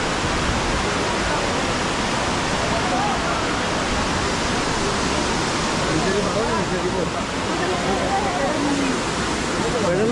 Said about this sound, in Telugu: చిన్న వాటర్ ఫాల్ ఒకటి పారుతుంది